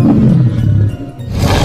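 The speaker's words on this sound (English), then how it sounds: "Spinosaurus." A Spinosaurus roars in one loud, deep, rumbling growl that fills the whole moment, gritty and close, easing slightly midway before swelling again.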